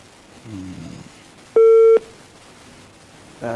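Telephone line tone of an incoming call on a live radio program, one loud steady electronic beep lasting about half a second, with a short hum and brief voice fragments around it.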